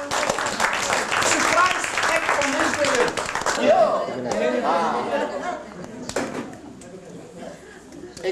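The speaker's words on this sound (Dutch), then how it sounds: "applaus voor deze beide heren" An audience applauds at a Deventer gathering, a loud burst of clapping mixed with chatter and some laughter that gradually thins out, while someone speaks over it.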